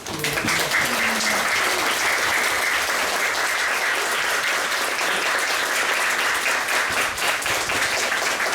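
Dense, sustained applause from a room of children at a children's national assembly committee session as the committee chair enters, loud and continuous throughout, with faint voices beneath.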